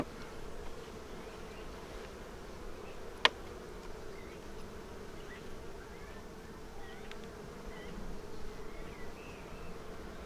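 Honey bees buzz in a steady, dense drone while a hive frame packed with brood is inspected, with a single sharp click partway through and no talking.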